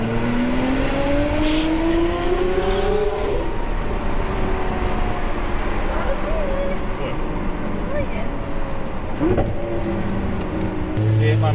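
A Lamborghini Aventador SV Roadster engine drones and shifts while driving, with rising and falling tones of revving and gear changes. Someone talks over it almost throughout.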